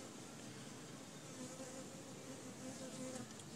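Bees swarm with a dense, steady buzzing hum at a live hive rescue from inside a garage wall, the drone close and continuous throughout with no talking.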